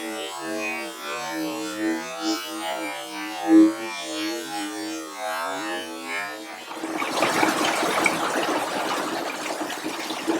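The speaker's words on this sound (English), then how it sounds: "flooding. Like a river here. Look at all that water." Floodwater rushes through a garden, first a bubbling gurgle and then a louder, steady broadband gush of flowing water close by.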